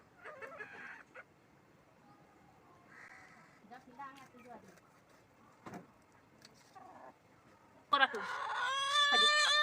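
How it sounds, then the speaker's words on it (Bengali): Agitated clucking and squawking from chickens, with a loud burst of harsh, screeching cries near the end. "দুটো মুরগি লড়াই করছে"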